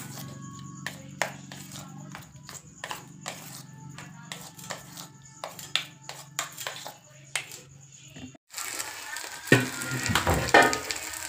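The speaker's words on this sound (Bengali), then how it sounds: "এই সুজি আলুর বড়া ভাজা হচ্ছে।" Semolina and potato fritters with coriander and cumin cooking in hot oil, a light sizzle under a run of sharp taps and clicks, then a louder burst of spattering frying near the end.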